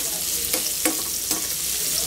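Fried meatballs (bola-bola) being sautéed in a pan, giving a steady low sizzle broken by a few soft stirring scrapes, with no talking.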